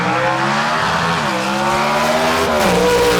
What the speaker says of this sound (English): There's that horsepower out of the Par Racing engines.